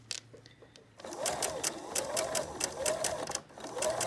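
A sewing machine runs steadily as quilt pieces are chain-sewn one after another, giving a fast, even mechanical whir with rhythmic needle ticks. Soft handling sounds come first, then the machine starts and keeps running nearby.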